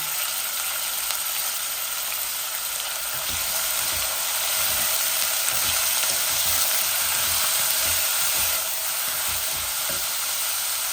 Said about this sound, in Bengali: তো আমি রসুনগুলা বসাই দিচ্ছি, সাথে আমি এই যে আনিয়ন দিয়ে দিচ্ছি